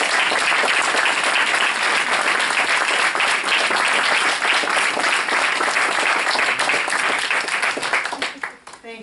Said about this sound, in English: great big round of applause